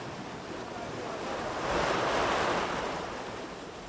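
Ocean surf washes against a rocky shoreline on the Chinijo Archipelago in the Canary Islands, a broad roar that swells to a peak midway and then eases off, with wind rumble underneath and no voices.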